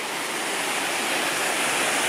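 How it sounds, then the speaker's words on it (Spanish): A steady, dense rush of falling water pours into the mill pool at Molín de la Peña, loud and close, a continuous broadband roar with no pauses or voices. "una poza preciosa y tiene un salto de agua"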